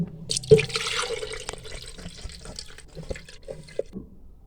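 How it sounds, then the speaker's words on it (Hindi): Cooked apricots and water poured into a grinder jug for a chutney: an initial splash and clunk, then trickling, dripping liquid and small knocks that fade out. "ग्राइंडर वाले जग में डाल के ग्राइंड कर लेंगे"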